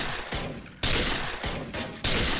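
Sniper rifle shots from an MSG-90 DMR in the shooter game Special Force, four sharp loud reports at an irregular rhythm, each with a short decaying tail, no talking.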